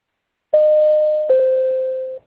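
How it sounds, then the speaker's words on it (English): A double electronic warning tone marking expired time in a court teleconference: two back-to-back steady beeps, the second slightly lower and longer, clear and loud with no voices. "And a double tone that sounds like this,"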